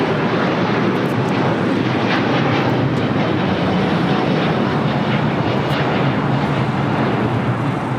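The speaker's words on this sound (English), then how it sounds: "Air Premia 102 taking off to Seoul on the 787-9 Dreamliner" A loud, steady, close roar comes from an Air Premia Boeing 787-9 Dreamliner as it takes off from LAX bound for Seoul, a thick, unbroken wash of jet engine noise with no voices.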